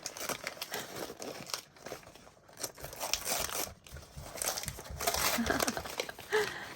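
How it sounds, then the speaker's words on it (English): Gift wrapping paper being ripped open during a holiday mystery gift exchange unboxing, giving continuous crinkling and tearing rustle close up, with brief pauses and a voice speaking over parts of it. "Oh, I might have to just rip this one."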